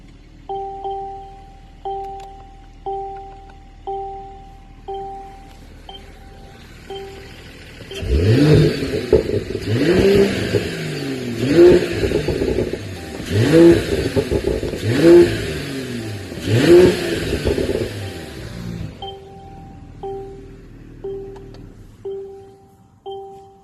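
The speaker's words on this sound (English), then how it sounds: "I'm gonna put it in Sport Plus, and I'm gonna give it some revs." A Mercedes-AMG E53 engine in Sport Plus mode roars through about five sharp revs up close, each surging and falling, with a steady electronic chime beeping before and after.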